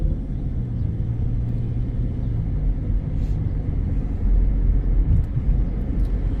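A car rolls slowly over a speed table on a residential street, heard from inside the car as a steady low road rumble with a brief heavier thump and bounce partway through. No one talks.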